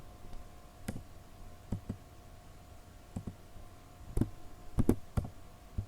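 Sparse clicks and taps from a computer keyboard and mouse while typing Tamil text in Photoshop 7.0, a few isolated near clicks spread across the moment with a cluster toward the end, no talking.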